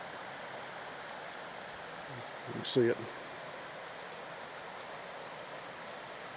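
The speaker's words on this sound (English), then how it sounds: "right down there is also the river, or I call it a river, it's a creek." A small creek flows steadily as a soft continuous rushing hiss beside a road, with a brief voice speaking over it midway.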